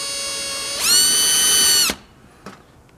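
A power drill with a bit dimpling the metal housing of a GM power door lock actuator motor whines at a steady pitch, rises sharply when it bites, then stops abruptly, followed by a faint click.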